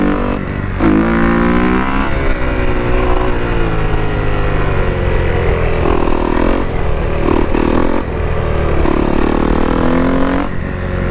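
A motorcycle tuned with an aftermarket ECU map accelerating hard in fifth gear without the clutch for a wheelie, engine droning loudly and steadily with rising and falling pitch, recorded close with wind noise throughout.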